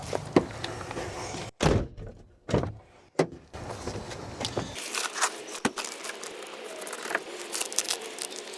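The front door of a Kia Sedona is worked while its door lock actuator is tested, giving a few sharp thunks and clicks with quiet stretches between them, then steady low background noise.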